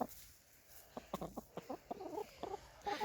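Backyard chickens cluck in a chicken run, a series of short soft clucks and throaty murmurs at close range, quiet and irregular.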